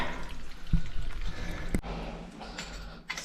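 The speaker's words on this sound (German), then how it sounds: "So, dann kommt noch ein bisschen Wasser raus." Water gurgles and trickles out of a clogged drain stuffed with wet wipes, a faint sputtering flow broken by a couple of sharp knocks and splashes.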